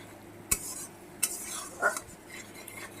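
A spoon scrapes and stirs turmeric and chili powder in a pan while frying the spice base for a Bengali bhola fish and eggplant curry, giving a few sharp metallic taps and soft scraping over a low background.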